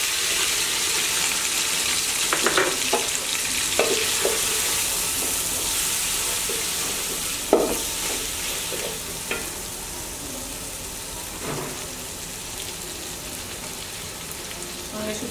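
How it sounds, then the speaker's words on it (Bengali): Chopped onions sizzle loudly in a pan for beef tehari, a steady crackling hiss that carries throughout, broken by occasional scrapes and clinks of stirring. "আমি পেঁয়াজ কুচিগুলো দিয়ে দিই।"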